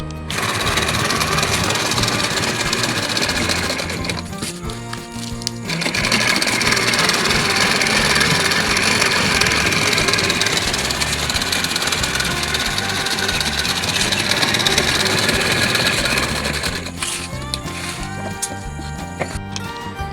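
Sewing machine stitching tarpaulin for a grow bag, a loud close whirring drone with fast needle clatter, running for long stretches with short pauses and brief restarts.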